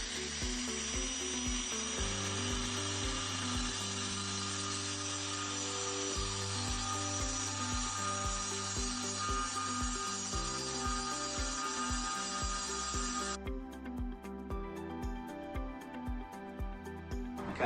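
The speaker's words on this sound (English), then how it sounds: "wrap the wrench around the M14 drill bit while simultaneously pressing the spindle lockdown button and then move the wrench clockwise" A power tool runs steadily in a workshop while an angle grinder is handled, its whir holding a continuous pitch with rhythmic pulsing before shifting tone near the end; no talking.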